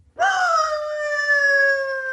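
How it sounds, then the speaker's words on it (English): A three-quarter Irish setter lets out a single drawn-out howl that rises suddenly and holds steady, loud and near, with nothing else around it. "Jacko, the three-quarter Irish setter."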